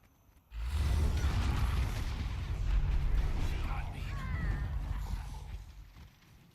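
Explosive rumbling blasts in Guild Wars 2 combat, a heavy low boom starting abruptly and rolling on continuously with crackling debris and whooshes, loud and close throughout.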